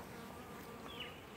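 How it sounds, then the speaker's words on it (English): Honeybees, including drone bees, buzz at a beehive at a beekeeper's grounds in Santa Rosa, a steady close hum with a brief louder whine as one flies past. "This is a boy bee also here."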